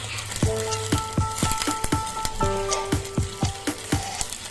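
A spoon stirs a chili, lemon, salt and sugar tempering for dhokla in a pan over low sizzling, with repeated scrapes and light taps against the pan. Music plays behind it.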